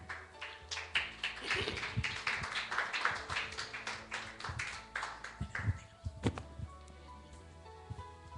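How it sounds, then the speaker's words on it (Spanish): Congregation clapping for a woman preacher at a Spanish-language church service, a scattered, uneven patter of hands that swells across the first few seconds, then thins to sporadic claps near the end. "Dele un fuerte aplauso a nuestra maestra esta mañana."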